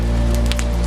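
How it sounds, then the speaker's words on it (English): Soft rain taps against the windows of an inn on a quiet night, a few light irregular drops over a steady low hum, close and gentle with no voices. "the soft tap of rain at the windows"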